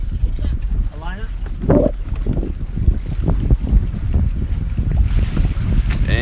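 Strong wind buffets the microphone aboard a sailboat out on the Mediterranean, with steady gusty noise and water rushing beneath, while people talk over it.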